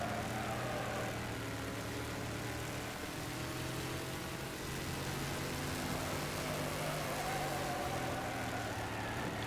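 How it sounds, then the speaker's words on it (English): Car engine in a Rocket League-style stock car race game, a steady droning hum with shifting pitch, as if revving through a damaged gearbox, continuous and fairly quiet with no talk. "Just listen to that thing's revving."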